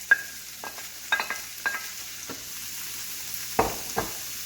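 Mushrooms tumble into ground beef frying in a pan, giving a few sharp clatters and stirring scrapes over a soft, steady sizzle, with brief pauses between the bursts of movement.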